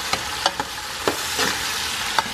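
Tomatoes frying in a pot for Guyanese hassa curry, a steady sizzle punctuated by several sharp stirring scrapes and pops, close and moderately loud with no talking.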